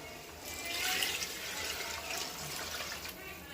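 Water is poured into a pot while basmati rice is being cooked, six tumblers of water for four of rice, making a continuous splashing gush that swells and then holds steady, close and moderately loud.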